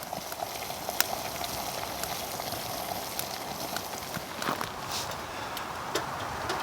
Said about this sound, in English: So we now have a rapid boil.